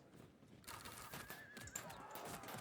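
Horses whinny and neigh amid scattered hoofbeats and clatter in the game Field of Glory II, a busy mix of animal calls over a low background din.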